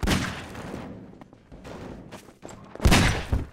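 Gunfire in a Garry's Mod prop hunt match: sharp bursts of shots at the start, scattered mid-clip, and a loud close volley near the end, separated by quieter gaps.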